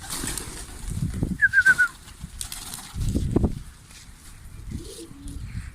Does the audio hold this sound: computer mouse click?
no